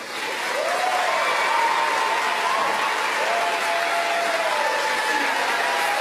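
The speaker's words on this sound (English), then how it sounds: "Protesters sustained their cheering for roughly 15 minutes, drowning out the proceedings until the midnight deadline had passed" Protesters in the Texas Senate chamber cheer and applaud in a sustained, loud roar that fills the room, with whoops and yells rising above the steady crowd noise.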